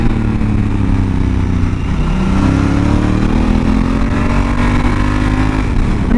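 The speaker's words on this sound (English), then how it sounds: "that engine does come to life. You just got to give it a little bit of revs" A Honda Africa Twin motorcycle engine runs steadily and close by on a foggy day on Mount Tam, its low rumble rising and falling gently with light revs throughout.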